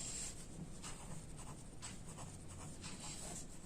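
A pen writes amounts onto paper during an accounting lesson, giving a steady close scratching with faint strokes that carries on without break for a few seconds, and no one talks.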